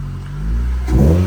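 A modified Honda Civic engine gives a brief low rumbling rev as the car is moved, rising sharply near the end of a short burst, loud and close.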